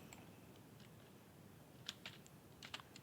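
Soft, quiet keystrokes on a computer keyboard while code is typed, with scattered clicks growing denser toward the end over a faint background hiss and no talking.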